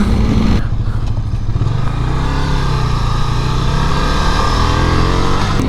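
A 2024 Ducati Scrambler 800 with a narrow twin-cylinder engine runs steadily while being ridden, a loud close rumbling drone with wind rush and no pauses.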